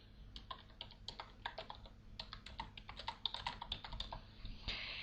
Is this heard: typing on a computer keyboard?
yes